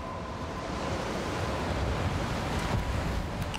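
Crashing ocean waves in the video game Still Wakes the Deep, a steady broad roar of surf and wind that holds loud and unbroken throughout, with no speech over it.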